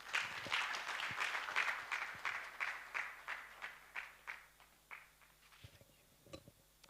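An audience at a live thought-leadership event applauds, the clapping fairly faint and distant, swelling in rhythmic waves before fading out over several seconds.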